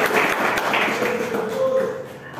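Congregation applause during an evangelical deliverance worship service at a church, a steady wash of clapping that carries on for the whole stretch with a faint voice beneath it.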